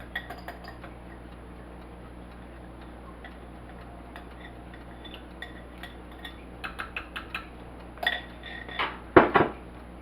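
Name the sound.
mixing rice with butter mixture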